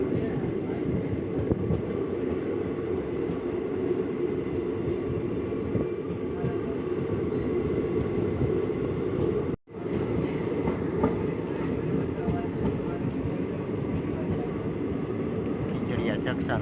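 Trains pass through a busy railway junction where four trains cross, giving a continuous loud rumble and rattle of rolling wagons that runs almost the whole time, with one brief dropout midway.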